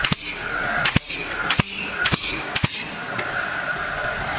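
Sharp nail gun shots fastening a steel frame in an apartment build, five loud, evenly spaced cracks about half a second apart over steady workshop noise.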